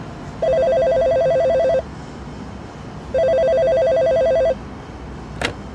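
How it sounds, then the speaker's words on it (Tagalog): A telephone rings in two long, loud electronic trill bursts separated by a pause, close and clear, followed by a brief click. "May tumatawag. Maaari mo ba itong sagutin?"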